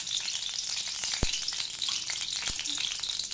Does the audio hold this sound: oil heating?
yes